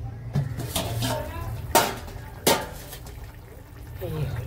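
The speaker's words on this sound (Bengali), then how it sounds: "এবার ঢাকনাটা তুলে দিই" A metal lid clanks twice as it is lifted off a pot of Kashmiri aloo dum (potato curry) cooking on the stove, two sharp distinct knocks over a low simmering background, with voice nearby.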